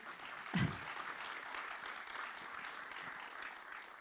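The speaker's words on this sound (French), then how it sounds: "merci à tous les quatre. Je pense qu'on a peut-être, oui, vous pouvez les applaudir" Quiet applause from a conference audience for four speakers, a steady patter of clapping heard at a distance with a brief louder thump near the start.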